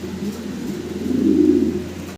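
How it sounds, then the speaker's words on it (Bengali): A pair of racer pigeons coos in a low, soft, rolling call that swells toward the middle and fades, close by with nothing else around. "আমরা অসাধারণ সুন্দর এক জোড়া কবুতর দেখতে পারতাছি"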